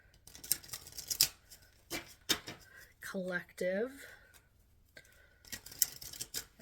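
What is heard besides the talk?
shuffling tarot cards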